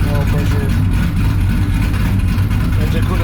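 Texas Speed powered Chevy C10 pickup engine idling, a steady, dense low rumble that stays loud and constant throughout with no clear revving.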